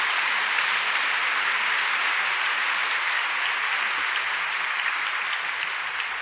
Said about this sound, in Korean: 다시 한번 큰 격려의 박수를 부탁드립니다.